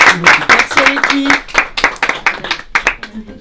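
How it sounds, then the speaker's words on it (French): A small film crew on a commercial shoot claps enthusiastically, close by, while several voices cheer and talk over the clapping. "C'est une fin de tournage pour Raphaël, on l'applaudit."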